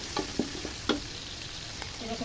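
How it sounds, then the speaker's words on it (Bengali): Chilli and onion frying in oil in a pan for a kachki fish curry, with a steady soft sizzle and several sharp scraping stirs of a spatula close by, no talking. "এই যে তেল দিয়ে দিলাম, মরিচ পেঁয়াজ দিয়ে দিলাম"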